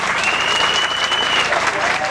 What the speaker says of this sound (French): Applaudissez les maris